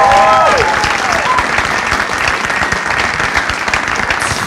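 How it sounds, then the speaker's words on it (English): A comedy club audience gives a steady burst of loud, dense applause for two stand-up comedians, continuous clapping filling the whole stretch with a brief tone at the start. "Clap it up for them."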